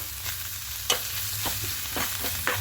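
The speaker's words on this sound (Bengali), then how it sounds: "এবার এখানে ধনে পাতা কুচিটা দিয়ে দেবো দিয়ে সবগুলো আবারও মাখিয়ে নেব মিক্স করে নেব" An egg patty filling with chopped coriander leaves gets stirred in a pan, with scraping stirs and a light sizzle under a steady background hum, several sharp strokes across a short stretch.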